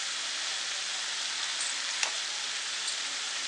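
Spices with peas and potato bhaji sautéing in a pan, a steady hiss of frying with one faint tap partway through.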